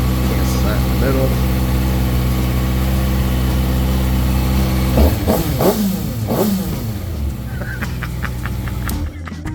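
A 2023 Kawasaki Ninja 636R sport motorcycle engine idles steadily, then revs up sharply in several quick throttle blips, close and loud.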